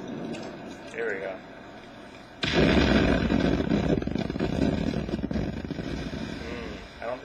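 In the video game Crysis, a loud, sudden grenade blast bursts in and then rumbles and crackles for several seconds, after a quieter stretch where a voice talks.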